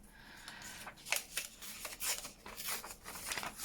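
Paper is ripped by hand for a collage, a series of quiet, close, crisp tearing bursts in an uneven rhythm.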